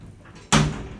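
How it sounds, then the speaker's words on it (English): Lift doors in a shopping centre slide shut, a single fairly loud closing thud with a brief rumble, heard alone against quiet background hum. "Doors closing."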